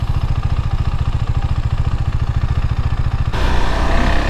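A 2022 KTM 390 Duke single-cylinder motorcycle engine pulses with a rapid, steady low throb while riding, then a sudden shift to a rougher, louder rush of engine and wind toward the end, close and loud.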